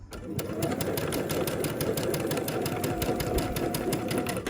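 A sewing machine stitches a quarter-inch seam on a Tula Pink butterfly quilt, a close, steady rapid whir with a fast mechanical ticking that runs evenly throughout.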